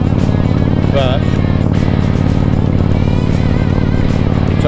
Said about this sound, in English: As you can hear that Harley burble as we climb the hill.